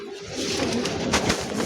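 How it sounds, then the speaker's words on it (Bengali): A pigeon in a breeding loft coos close by in one short, soft, rolling call, alone with no talk. "পায়রিটা, এই যে পায়রাটা,"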